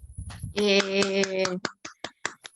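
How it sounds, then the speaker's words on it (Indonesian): Classroom hand clapping, a short run of sharp, separate claps that follows a sung or drawn-out voice and thins out into a few scattered claps near the end. "Kasih tepuk tangan ya untuk Yupi."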